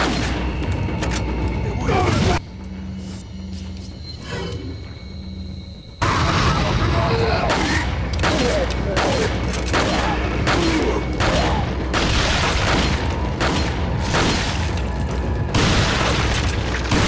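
Heavy gunfire and booming blasts in Resident Evil 4 on the Wii, loud repeated shots in rapid bursts with a quieter stretch partway through, and a voice talking over the action.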